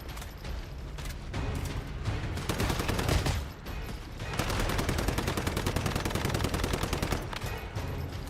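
Gunfire in the video game Once Human: rapid automatic bursts of shots, loud and close, with a brief lull before a long sustained stream of fire.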